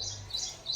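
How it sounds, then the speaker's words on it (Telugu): Sparrows chirping, a few quick high tweets in close succession over a quiet background, brief and moderately faint. "మీకు ఎప్పుడు పిచ్చుకల సౌండ్ వినిపిస్తుంటది"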